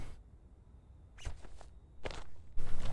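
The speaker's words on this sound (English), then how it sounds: "My shoes are making little squeaky noises" Footsteps in the horror video game Visage, with shoes making small squeaks on the floor, several distinct soft steps spaced irregularly over a dark, quiet background, ending in louder ambient noise.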